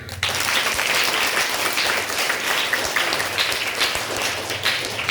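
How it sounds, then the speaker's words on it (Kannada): Classroom applause from a group of students, a steady dense patter of many hands clapping throughout, loud and close, with no speech over it. "ಅದಕ್ಕೆ ಒಂದ್ಸತಿ ಇಬ್ಬರಿಗೂ ಬರಲಿ ಚಪ್ಪಾಳೆ"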